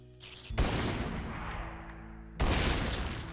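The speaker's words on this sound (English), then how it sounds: "So look, we got a hand cannon turret." A hand cannon turret in the Minecraft Techguns mod fires two shots, each a sharp, loud blast followed by a long rumbling decay, the second coming about two seconds after the first.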